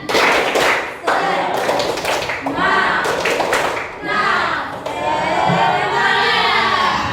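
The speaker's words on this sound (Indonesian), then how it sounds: "Tepuk semangat kita ya, sekali lagi tepuk semangat." Students in a classroom perform a rhythmic spirit clap, patterned bursts of hand claps separated by short pauses, with a teacher's voice and group chanting over them.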